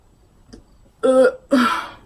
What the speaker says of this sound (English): I think she did a burp.